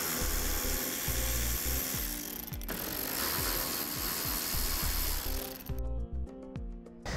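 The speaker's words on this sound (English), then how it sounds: "Now to remove our tie-down, we're using an 8mm socket." An 8mm socket wrench ratchets steadily while loosening a vehicle's tie-down point, a close, busy clicking with bursts of faster turning, ending in a few sharp separate clicks.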